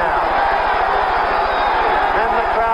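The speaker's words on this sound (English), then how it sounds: "And the crowd begins to clap and stand." Large boxing crowd applauding and cheering at the end of the Young versus Norton bout in 1977, a steady dense roar of clapping and voices filling the arena without pause.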